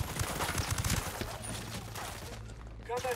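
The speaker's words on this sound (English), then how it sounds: "who the hell was shooting?" Rapid gunfire bursts ring out in Ghost Recon Breakpoint, a tight cluster of shots early on followed by sustained busy combat noise, with voices talking over the action.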